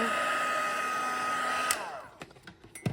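A heat embossing tool blows steadily and loudly for nearly two seconds while melting embossing powder on a handmade greeting card, then cuts off abruptly, followed by a few light taps and handling noises.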